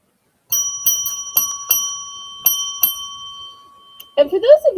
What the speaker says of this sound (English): the bell I ring for each sale